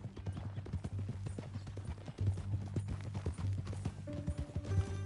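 Horse hooves in Red Dead Redemption 2 clip-clop at a steady walking rhythm, close and clear, with a faint low hum and a brief tonal sound near the end.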